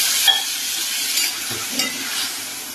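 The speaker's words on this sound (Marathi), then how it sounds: "भिजवलेली आपण कोरीची डाळ घालायची ते पण चांगलं परतायचे" Soaked dal stir-fried in a pan for a pointed gourd (parwal) vegetable dish, with a bright continuous sizzle and repeated scraping stirs of a spoon, close and clear with no voices.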